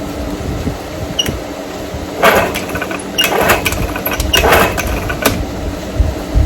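A vintage outboard motor that has not run in years is pull-started by rope after priming with WD-40, giving several rasping rope pulls over a steady mechanical background hum, close by with no talk.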